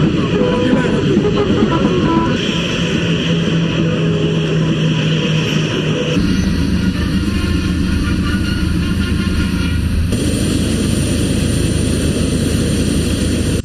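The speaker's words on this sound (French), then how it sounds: "l'avion présidentiel fait son apparition" The presidential airplane arrives at Bamako-Sénou airport with a loud, steady engine roar that holds throughout and shifts abruptly in tone a couple of times.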